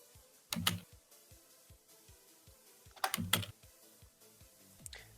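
Computer keyboard and mouse clicks come in short bursts over a quiet background, two clustered runs of keystrokes and a few lighter ticks between them, close and moderately loud.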